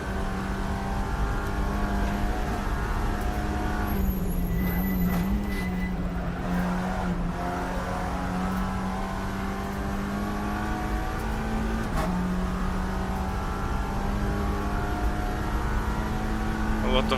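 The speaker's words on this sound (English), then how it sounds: "A lot of cars around the pit lane now, and like pit lane GP track." Racing cars circulate in the pit lane at an NLS 3-hour endurance race, a steady engine drone with rising and falling revs and a brief passing surge, continuous and moderately close, with voices faintly underneath.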